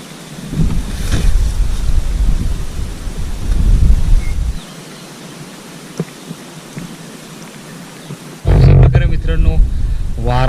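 Strong outdoor wind roars and buffets the microphone in gusts, easing in the middle before a loud burst returns near the end.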